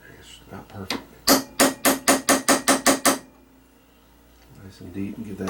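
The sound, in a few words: hammering center punch into metal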